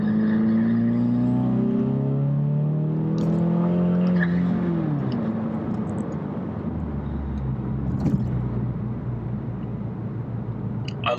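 Four-cylinder Ford Mustang EcoBoost engine pulling hard, the tone climbing through the gears with a clear shift before it settles into a lower drone, heard from inside the car with a few clicks.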